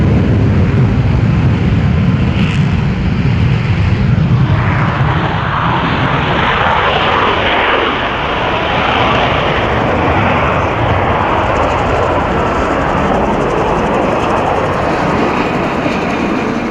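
A P-51 Mustang propeller fighter roars past at an air show, a loud sustained engine drone that swells and then fades steadily as it moves away, with no talk over it.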